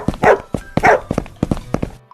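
A dog in Sakura School Simulator barks repeatedly in a quick uneven series, with several sharp clipped woofs close and clear and no talk over them.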